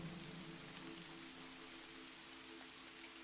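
Steady rain falls outside, a soft continuous patter heard faintly and evenly throughout, with a low hum of background music underneath and no talking.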